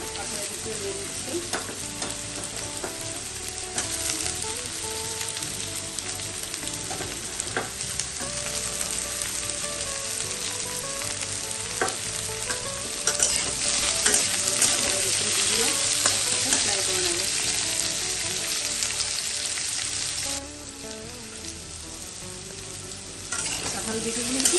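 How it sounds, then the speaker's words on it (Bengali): Potatoes and jackfruit seeds fry in a pan for a Bengali paneer and pumpkin dish, giving a steady, dense sizzle throughout with occasional stirring scrapes and a brief louder surge near the middle. "আলু ভাজা আছে, কাঁঠালের বিচি দিয়ে দিচ্ছি।"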